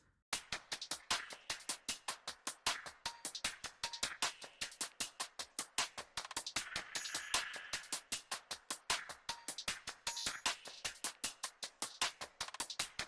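Programmed pop-chorus hi-hats and percussion play soloed with no other parts, a fast, steady stream of bright, clicky, attacky hits with little body, quiet but even throughout.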